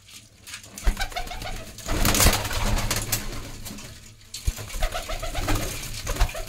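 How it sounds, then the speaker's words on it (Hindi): Punjabi Malwai pigeons cooing nearby in repeated soft throaty phrases, several birds overlapping, with occasional brief flutters and clatter in the background. "देखो कितनी खूबसूरत क्वालिटी में कबूतर है"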